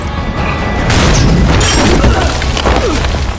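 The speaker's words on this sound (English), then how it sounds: "a grenade was hurled through the window, exploding and leaving everyone on the floor" A grenade explodes after being thrown through a window, a loud deep boom that swells and rolls on as a sustained roar.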